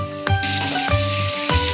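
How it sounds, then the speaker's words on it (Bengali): Pointed gourd (potol) frying in oil in a home kitchen pan, a steady close sizzle with a few sharper crackling bursts and a faint hum underneath. "এখানে পটল ভাজা হচ্ছে"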